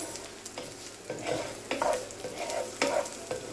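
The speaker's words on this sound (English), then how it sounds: "we're just going to cook our onions down a little bit, and then we're going to add in the greens, the bottom part of our green onions" Onions and the bottom parts of green onions fry in a skillet, a close steady sizzle swelling with bursts of stirring scrapes and sputters, with no voices.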